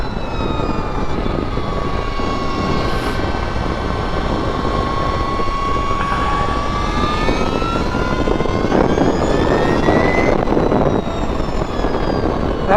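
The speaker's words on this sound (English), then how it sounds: "That was a full throttle twist, and it goes." A 2022 Energica Ribelle RS electric motorcycle accelerates at full throttle, its rising electric motor whine sweeping upward over steady, loud wind rush throughout.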